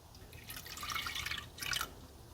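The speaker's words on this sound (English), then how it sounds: "Now I'm going to add my milk." Milk poured into a bowl of whipped egg whites for chocolate pudding, a faint short splashing trickle in two brief bursts close by.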